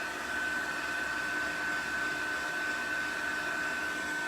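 A heat tool blows a steady, even whoosh of air with a faint high whine, drying a watercolored stamped image on a card close by and running unbroken for the whole stretch.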